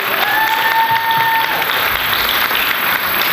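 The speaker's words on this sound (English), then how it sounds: "can we please give one last round of applause to Knox Randy and all of the groups who performed tonight?" Sustained audience applause for performers at the close of an evening show, a dense, steady roar of claps with a voice briefly sounding over it.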